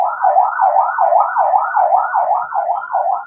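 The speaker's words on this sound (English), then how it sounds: "and ambulance is going" A wailing ambulance siren rises and falls in a fast, regular yelp, loud and close, with no talking over it.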